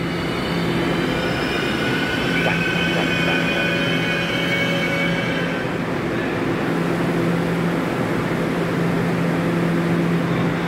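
A Taiwan Railway EMU3000 twelve-car electric intercity train rolls past close by, producing a loud continuous rumble of wheels on rails with faint squealing tones throughout, no talking.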